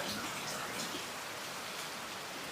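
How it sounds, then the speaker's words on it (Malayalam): Steady, dense rain hisses evenly throughout, a broad wash of falling water with no voices over it. "Heavy rainfall."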